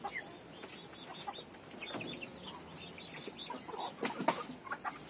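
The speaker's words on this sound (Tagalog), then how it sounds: "may mga sisiyo din tayo dito. Kita ba?" Chicks and chickens in a grow-out pen peep, cheep and cluck softly in a continuous busy chorus, with occasional rustling and light wing flaps close by.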